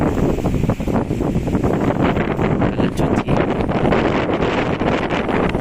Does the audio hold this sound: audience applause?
no